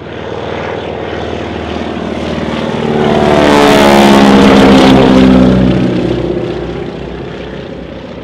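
A propeller training airplane drones overhead at an air show in Norway, its engine growing louder as it passes close by, then receding with a shifting pitch.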